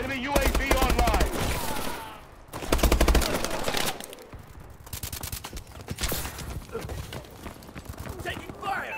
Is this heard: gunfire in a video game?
yes